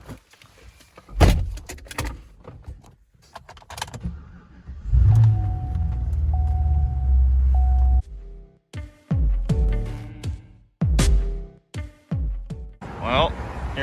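An LS-swapped Nissan car driving, with a steady engine drone through the middle stretch and door, window and handling noises around it, all heard close from inside.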